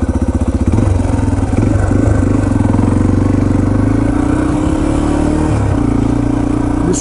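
A Yamaha TT-R230 dirt bike engine drones steadily and close while climbing a mountain trail, with a rough rhythmic chug at the start settling into a sustained mid-pitched hum that shifts slightly as the throttle changes.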